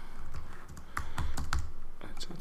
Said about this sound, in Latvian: Redziet, kā man ātri rakstās.